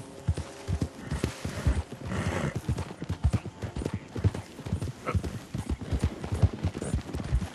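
Horse hooves clip-clop in a steady, fairly close rhythm across the whole stretch in the Red Dead Redemption 2 video game, with a faint whinny-like touch and no talking.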